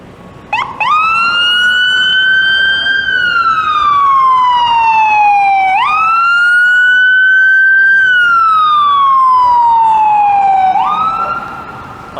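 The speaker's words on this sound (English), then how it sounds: "Oh, good luck to that ambulance." A wailing ambulance siren in city traffic, loud and close, sweeping up and down in long slow cycles that restart about every five seconds, with no talk over it.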